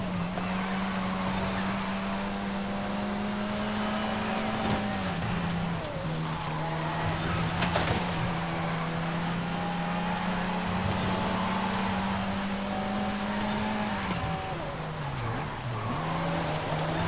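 A V12 racing car in Forza Horizon 5 bellows as it pulls through gears, a strong sustained engine tone that rises, drops at shifts and rises again, with some tire squeal along the way.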